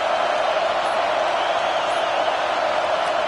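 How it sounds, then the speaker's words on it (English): A large crowd at a football game keeps up a steady, loud roar of noise as the 4th quarter begins, constant and broad with no breaks or peaks, with no clear voices standing out. "No fall off from the noise or intensity from this crowd as we start the 4th quarter."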